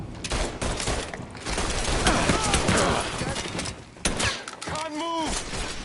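Bursts of rapid gunfire in the game Mafia 3, dense and loud, with shouting voices over the shooting and a brief lull near the end.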